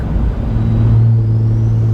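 A Cummins diesel truck engine drones steadily under 50 pounds of boost, with a low, rising hum and a faint whine on top, loud and continuous, no voices.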